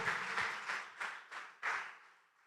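A church congregation claps together in a few strong bursts that quickly thin out and fade away into quiet within a couple of seconds.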